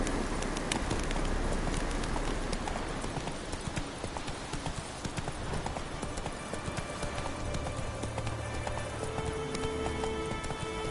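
Roach the horse galloping in a video game, steady, close clip-clopping hoofbeats in a continuous fast rhythm over a light rain-like hiss.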